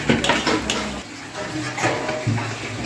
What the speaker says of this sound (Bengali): অন্যদিকে চলছে মাংস কষানো।